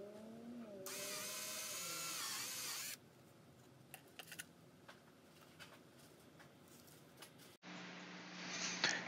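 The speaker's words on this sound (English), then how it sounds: "Once most of the holes were drilled," A drill bores holes in a homemade towfish body: a short, fairly quiet burst of rising and falling whine, followed by scattered clicks and handling noises, then a brief harsher burst near the end.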